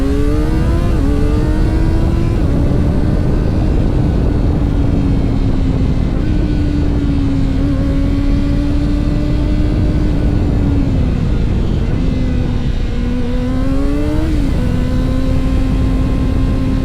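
A Kawasaki ZX-25R SE motorcycle's high-revving four-cylinder engine screams steadily while riding on roads in Bali, loud and close, its pitch rising and dipping through gear changes, with heavy wind rush throughout.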